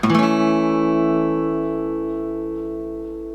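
A single open guitar chord strummed once, ringing out clearly and slowly fading over a few seconds, with no voices.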